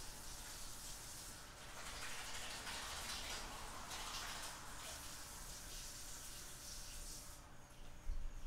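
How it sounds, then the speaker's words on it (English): Water runs steadily, as from a tap or into a basin while hands and a rag are washed at a bushcraft campsite, a close continuous splashing gush that swells and settles over several seconds, with no talking. "I'm just going to go wash my hands and throw my BLO rag in some water."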